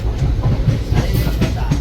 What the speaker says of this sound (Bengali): আমাদের ট্রেন এক্ষুনি প্ল্যাটফর্মে চলে আসবে